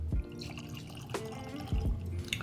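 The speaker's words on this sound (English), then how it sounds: "Get a nice healthy pour of Booker's there" Booker's bourbon, the 2024 Beam House Batch, poured from the bottle into a glass, with a trickling, dripping liquid splash running through the clip and a few soft knocks of bottle against glass, close and moderately loud with no talk.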